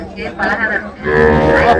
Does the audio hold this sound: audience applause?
no